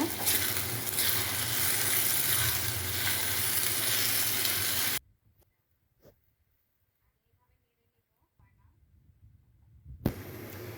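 Chow mein noodles and vegetables are stir-fried in a hot pan, giving a loud, steady sizzle for about five seconds that stops abruptly. Near-silence follows, with a few faint clatters.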